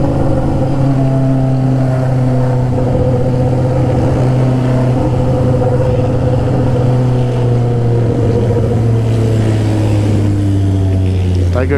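A Triumph Tiger 800 motorcycle engine drones loud and close, holding a steady low rumble and then rising in pitch as it revs near the end.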